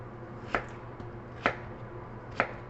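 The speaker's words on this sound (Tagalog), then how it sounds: "Putulin ko lang to, guys, yung ating sayote" Three spaced knife chops cut through chayote on a cutting board, each a crisp, close thud at a slow, steady pace, with no talking.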